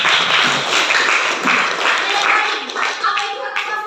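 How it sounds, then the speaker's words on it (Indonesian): A classroom full of students applauds a classmate with a dense burst of clapping that rises and fades unevenly over a few seconds, close and fairly loud, mixed with some background voices. "Oke, aplaus dulu untuk Asbar"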